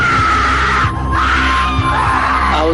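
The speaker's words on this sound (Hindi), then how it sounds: "इसमें से ये आवाज है, शोर की आवाज है, चीखों की आवाज है।" Loud, sustained screaming and shrieking fill a horror-show sound effect, layered over a heavy rumbling bed. The noise runs without a break from start to finish.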